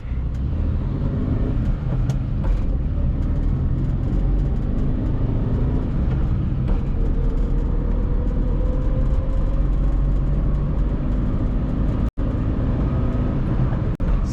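A Tata Nano car accelerating hard from a standstill toward 100 with the AC switched off, its engine drone loud and continuous from inside the cabin, steady for the whole stretch with a brief dropout near the end.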